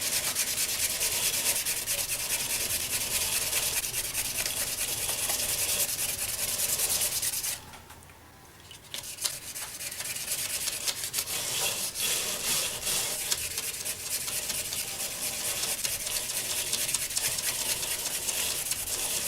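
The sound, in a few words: sanding a spalted mango wood vase with 2000 grit sandpaper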